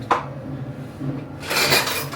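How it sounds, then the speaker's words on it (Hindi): Dishes, pots and utensils being washed by hand at home, close clinks and clatters of metal and glass with a busier rattle toward the end. "मैं अपना धो लेती हूँ बर्तन"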